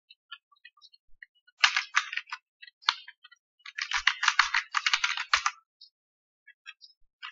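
Keyboard keys tapped in quick bursts while entering names and details into an Excel data-entry form, close and clear, with short pauses between runs of keystrokes.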